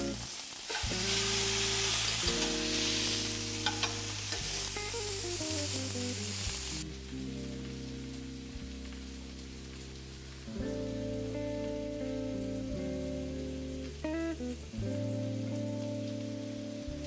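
Stuffed artichokes fry in a pan with a steady sizzle that runs under prominent musical tones, loud at first and then settling lower.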